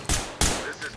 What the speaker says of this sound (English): I heard a bunch of gunshots behind me, like someone was shooting a machine gun.